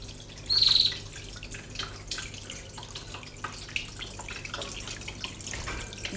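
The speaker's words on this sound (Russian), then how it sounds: "Ну, это мой водопадик." Gentle continuous trickling and splashing of falling water from a small garden waterfall on a summer veranda, steady and close, with a brief brighter burst near the start.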